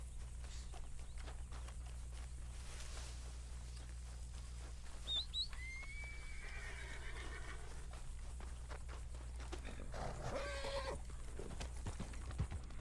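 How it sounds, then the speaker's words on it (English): Wild horses in the video game Red Dead Online whinny at a distance, with two faint neighs rising over a soft outdoor background and a few light hoof clops. "I see wild horses"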